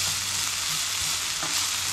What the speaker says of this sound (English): you're just gonna saute this until the onion just starts to caramelize